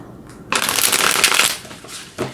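A deck of tarot cards is shuffled up close in a loud, papery riffle lasting about a second, followed by a brief second flutter of cards.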